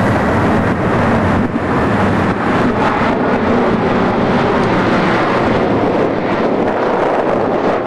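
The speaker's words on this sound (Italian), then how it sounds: "paesaggio urbano con sorvolo aereo a bassa quota" A low-flying airplane passes over city rooftops while landing at Treviso airport, a loud steady rumbling roar with wind buffeting the microphone throughout, no voices.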